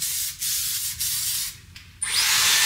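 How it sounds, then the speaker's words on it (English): Hairspray sprayed onto styled curls in short pressurized bursts, several brief hissing sprays followed by a longer, louder continuous spray, close by with no talking. "and then hairspray it"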